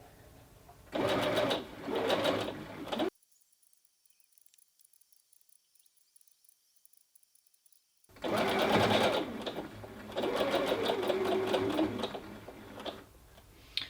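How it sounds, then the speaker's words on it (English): A sewing machine stitches gathers onto a tiered dress, running in steady rapid bursts of needle clatter. It stops for about five seconds of near silence, then starts again and runs on to the end, close and clear. "I'm going to stitch the rest of the way round, just making sure everything's nice and flat"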